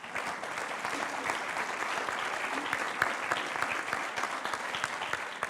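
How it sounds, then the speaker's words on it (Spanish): Audience applause for a speaker introduced at a panel event, sustained even clapping at moderate level throughout with no one talking over it. "Un aplauso para ella."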